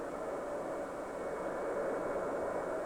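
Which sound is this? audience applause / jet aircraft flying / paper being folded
jet aircraft flying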